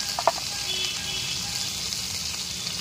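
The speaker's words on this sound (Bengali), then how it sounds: "আমি এই উচ্ছেগুলো লাল লাল করে ভেজে নেব।" Bitter gourd slices frying in oil in a pan, a steady soft sizzle and hiss running throughout, with a few faint clinks near the start.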